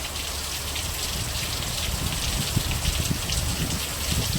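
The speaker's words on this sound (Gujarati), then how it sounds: "વરસાદની ખાસ જરૂર હતી તો આવી ગયો વરસાદ. જોઈ પાણી પાણી કરી દીધો." Heavy rain pours onto a groundnut field during weeding season, a dense, steady hiss of drops hitting plants and soil at close range, continuous throughout with no talking.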